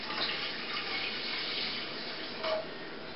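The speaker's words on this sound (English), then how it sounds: "you need to pour, obviously, trial jar first, and just pour a bit of this mixture" Apple wine mixture pours from a trial jar back into a saucepan in a home-brewing space, a soft continuous liquid trickle and splash heard fairly close, with a brief louder splash near the end.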